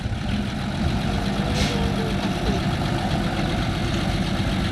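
A four-wheeler ATV being driven on farm fields at evening, a steady, close, rumbling engine drone that holds a constant level throughout.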